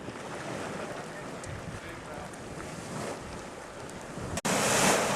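The Churning Cauldron, a geothermal pool in Yellowstone, gives off a steady, dense roar of churning, bubbling water and rushing air. It ends in a sudden louder burst of wind-like noise.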